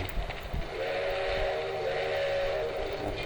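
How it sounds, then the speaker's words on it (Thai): A train rolling closer along the tracks in the old game They Hunger, a steady loud rumble with a sustained whistle-like tone rising over it, no talk. "เราก็จะพบกับผีดิบซึ่งกำลังขี่รถไฟมานะพยายามจะชนเรา"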